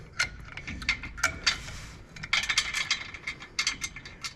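Wrench ratcheting to loosen a fitting in the engine bay of a Chevy Squarebody truck, bursts of quick metallic clicks in short runs with brief pauses, close and moderately loud, no talking.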